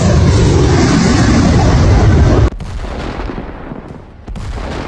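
A HIMARS rocket launcher fires at targets in a combat zone, with a loud, dense roar of launch blast for over two seconds, then cutting to quieter rumbling with a few sharp bursts.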